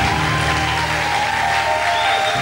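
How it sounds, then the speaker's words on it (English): Church congregation clapping during a lively worship service, a loud, steady wash of many hands with some crowd noise mixed in, brief and continuous throughout. "You can clap louder than that."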